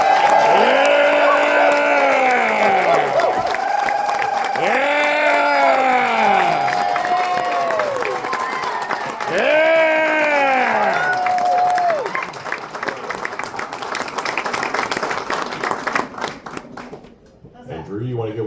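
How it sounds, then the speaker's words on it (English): A live audience at a bluegrass band's Q&A and album-release event claps on cue, with loud cheering and whoops rising in waves over the clapping before it thins out and fades near the end. "at the count of three, give us a little bit of applause"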